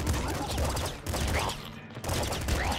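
Rapid, steady weapon fire from the top-down shooter Nuclear Throne, a continuous dense rattle of shots lasting under three seconds, with only a brief gap near the middle.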